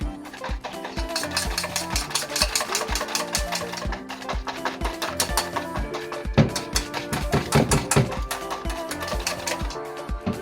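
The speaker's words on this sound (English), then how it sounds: "Take your whisk, mix that all up." A whisk beats mashed banana and eggs in a bowl, giving a rapid, very regular clicking rhythm that runs continuously and fairly loud, up close, with no speech.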